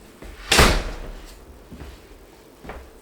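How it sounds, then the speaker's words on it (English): A door closes with a single firm thump, loud and near, in a room fitted with a ductless multi-zone mini-split air conditioner, followed by quieter knocks and faint room noise. "Close the door."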